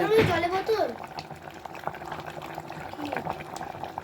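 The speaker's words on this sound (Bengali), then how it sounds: "বিরিয়ানি টকবক করে ফুটছে" Spicy country-chicken biryani bubbles in a large pot, giving a steady, soft gurgling simmer after a brief burst of nearby speech at the start.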